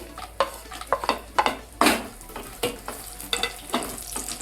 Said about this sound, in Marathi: तर सर्वात पहिलं काजू, बदाम, चारोळी, मनुकी आता हे मी तुपामध्ये भाजून घेते.